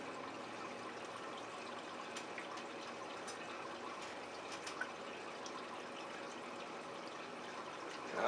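A rain simulation rig with its fans turned up makes a steady, faint rushing wash of splashing water and air, continuous and even throughout.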